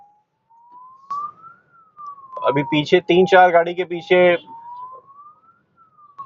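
A wailing ambulance siren rises and falls steadily in traffic, with someone talking loudly in Hindi over it for a couple of seconds in the middle.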